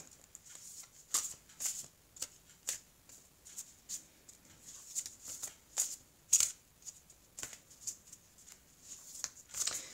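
Oracle cards are shuffled by hand in a steady run of crisp riffling bursts, close and fairly quiet, repeating about once a second with no talking.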